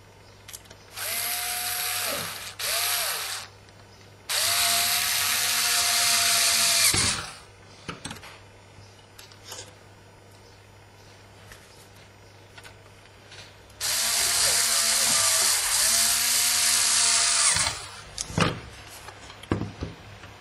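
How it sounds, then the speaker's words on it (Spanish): A power screwdriver drives screws into the side of a hard drive enclosure in three sustained whirring bursts, close and loud, separated by quiet handling pauses. "Vamos al otro lateral. Colocamos los 4 tornillos."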